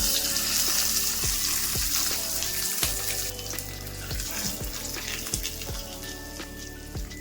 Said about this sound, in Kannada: ಇವಾಗ ಒಗ್ಗರಣೆನ ಚಟ್ನಿ ಹಾಕೊತಾ ಇದ್ದೀನಿ